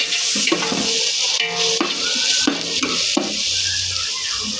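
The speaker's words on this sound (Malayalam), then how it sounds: "ഉള്ളി, പച്ചമുളക് ചതച്ചതിടാം. നന്നായിട്ട് പച്ചമണം മാറുന്ന വരെ ഇളക്കി കൊടുക്കാം." Crushed onion and green chilli sizzle steadily in a salted pan while a spoon stirs and scrapes them in short, irregular strokes, close and fairly loud.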